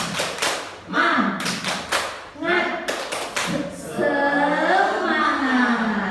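Rhythmic group clapping by teachers doing a spirit clap, sharp unison claps in short patterned bursts, followed by voices chanting and talking together near the end.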